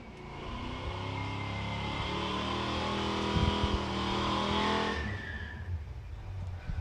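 A Chevy drag car at Santa Pod makes a loud, sustained roaring run that climbs through the gears with a brief crackle midway, then cuts off abruptly and leaves a quieter fading rumble.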